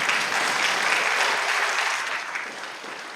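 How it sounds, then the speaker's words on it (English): An audience at a talk on Bibles in schools breaks into steady applause, a dense even wash of many hands that holds for a few seconds, then thins slightly as it winds down, with no talking over it. "Yeah, you can applaud that."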